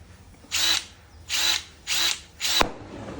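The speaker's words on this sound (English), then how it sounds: "You just grab a drill." A power drill whirs in four short bursts while extracting an oxygen sensor, each spinning up and stopping, with brief pauses between, loud and close.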